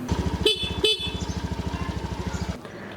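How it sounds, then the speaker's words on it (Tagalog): A Honda Beat Fashion Sport 110cc fuel-injected scooter idles with a steady putter while its thin, high horn beeps twice in quick short toots before the engine cuts off. "ang cute nga ng busina nito eh, medyo kakaiba"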